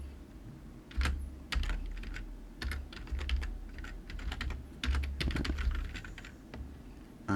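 Quiet, irregular clicking of computer keyboard keys as a file name is typed, short bursts of keystrokes with brief pauses over a low room hum.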